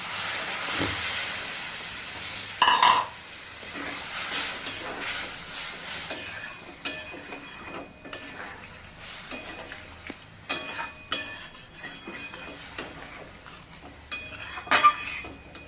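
Spiced water for a kadai paneer curry boils in a pan, giving a continuous hissing, bubbling sizzle close by, with a few louder clinks and stirring scrapes.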